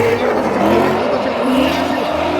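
Race car with an 8-cylinder BMW engine at a hill-climb event, a loud, steady engine drone held at high revs throughout, close and continuous, with a commentator's voice partly mixed over it.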